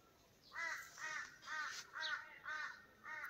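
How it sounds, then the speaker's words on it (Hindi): A crow caws six times in an even, spaced series in a natural hillside setting in Uttarakhand, its harsh calls moderately close and clear with no talk. "देखो कब की काव काव।"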